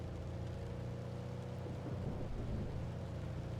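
Steady rain and low rumbling thunder from a thunderstorm in the storm-chasing video game Outbrk, a continuous dense wash with a deep roll swelling midway, no talking.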